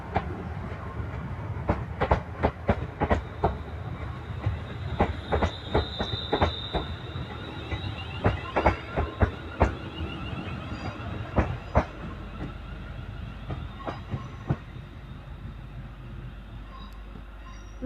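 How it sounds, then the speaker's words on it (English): A London Northwestern Railway service to Birmingham New Street, worked by Class 350 units 350113 and 350404, moves through Crewe station on the West Coast Main Line, with a long run of rhythmic clickety-clack wheel beats and a brief squeal, heard alone. "11:21 London North Western Railway service to Birmingham New Street"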